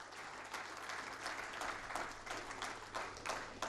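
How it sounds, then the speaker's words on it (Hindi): A seated audience applauds rescue honorees at an India News Manch award ceremony, a steady, dense clapping that keeps going for the whole stretch without a break. "तालियों से इनका अभिनंदन किया जाए"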